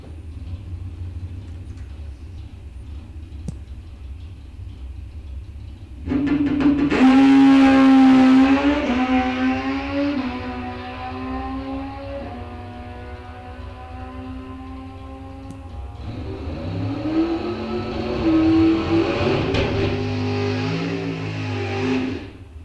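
A drag-racing motorcycle revs loudly during time trials at Rock Falls Raceway, its engine rising and falling in two long, aggressive pulls over a steady low rumble, with no voices.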